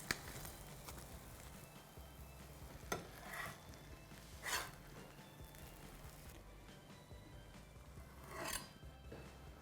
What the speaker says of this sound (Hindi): that's the sound of A crunchy toast, slow cooked butter के अंदर